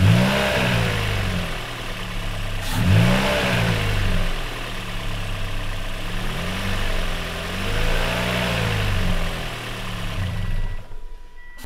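A Toyota Yaris fitted with a 1ZZ throttle body swap on a neighborhood test drive: the engine revs up and eases off in repeated waves through the gears, fairly loud and close, then fades out at the end.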